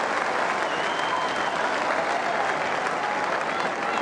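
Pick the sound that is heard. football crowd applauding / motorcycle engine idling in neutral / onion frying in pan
football crowd applauding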